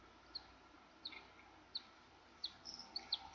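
Pet birds kept in a house give faint, sparse high chirps, a handful of short isolated tweets spaced irregularly over a quiet indoor background, no talking.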